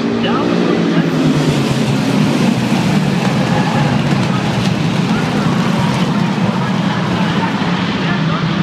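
Race cars roar down the front straightaway at an icebreaker race after a green-flag restart, a loud, dense, continuous engine rumble with an announcer talking over it.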